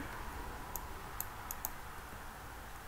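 Quiet computer keyboard and mouse clicks sound during a Minecraft session, a few sparse, sharp taps spaced irregularly over a soft steady background hum.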